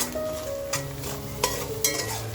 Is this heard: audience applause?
no